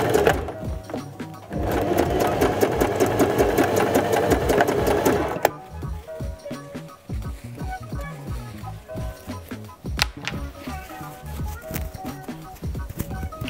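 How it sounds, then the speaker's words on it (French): A sewing machine runs in a fast, steady burst for a few seconds while zigzag-stitching elastic into a trouser waistband, then stops, leaving softer intermittent clicks and fabric handling. "Je viens faire une deuxième couture sur la deuxième partie de mon élastique."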